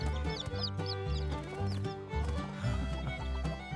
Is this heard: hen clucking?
yes